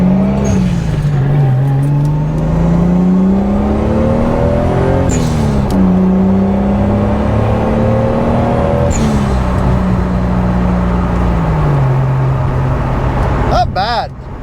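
A Toyota MK3 Supra Turbo drives steadily, its engine droning loud and close throughout, with pitch rising through the gears and dropping at each shift, ending in a short squeal.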